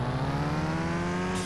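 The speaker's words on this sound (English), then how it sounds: "Oh my God, you guys hear that turbo?" A car engine in the video game Car Mechanic Simulator 2021 holds a steady, tonal whine, with turbo spool audible on top. The sound is close and even throughout the short moment and ends with a brief hiss.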